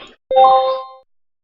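A single bright electronic ding alert from trading software rings out alone, a clear tonal chime with a short decay that fades to silence within about a second.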